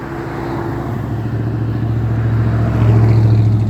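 A loud truck rumbles past on a Midwest street, its deep engine drone building steadily and swelling loudest near the end as it draws close, heard during an outdoor walk with no talking.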